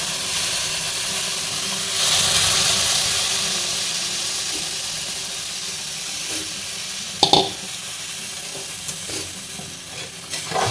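Hot water poured into roasted semolina for rava sheera sets off a steady hissing sizzle with steam that swells early on, followed by scattered stirring scrapes and clicks in the pan.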